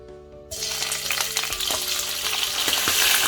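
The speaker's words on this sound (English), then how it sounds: "here we've got raw prawns, 160 grams, and I'm going to fry that for a couple of minutes first because it's raw" Raw prawns, 160 grams, hit hot oil in a pan and break into a loud, steady sizzle after a brief quiet start, with occasional stirring clatter and no talking.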